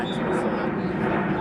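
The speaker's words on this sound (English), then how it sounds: "Apologies for the plane flying overhead." Near Sydney Airport, a passing airplane overhead makes a loud, steady broadband engine roar. It fills the short clip along with a continuous rumble of voices.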